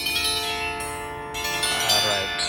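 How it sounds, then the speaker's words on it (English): A set of 39 harmonic bells rings in Melbourne, overlapping tuned tones sounding in succession with long sustained ringing, loud and continuous, with a few new strikes layering over the decaying notes. "So there are 39 of them, 39 harmonic bells"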